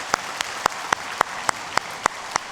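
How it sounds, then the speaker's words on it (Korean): Church congregation during a Sunday daytime worship service clapping in unison: about ten sharp, evenly spaced claps at a brisk, steady rhythm, clear and fairly close with little else beneath. "하나님께 영광의 박수 올려드리겠습니다"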